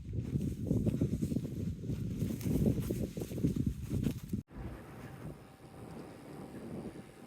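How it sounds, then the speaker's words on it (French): Strong gusty wind at the top of a mountain pass buffets the microphone for about four seconds, then cuts to a steadier, softer rush of wind. "Il y a encore tellement de vent"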